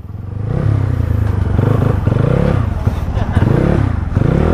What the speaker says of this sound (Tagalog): Nagloloko nga tong motor ko